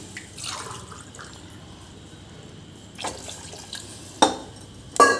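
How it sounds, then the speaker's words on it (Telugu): Water is poured into a pot of spinach dal, starting as faint drips and ending in a couple of short, louder splashy pours against a quiet kitchen background. "దీనికి సరిపోయినన్ని వాటర్ వేసుకోండి"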